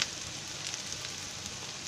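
Green capsicum fries in a covered pan, a soft, steady hiss of sizzling with faint crackles, quiet and alone.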